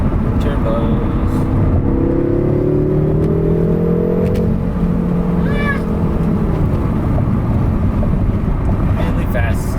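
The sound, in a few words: BMW M6 twin-turbo engine revving with BMS intake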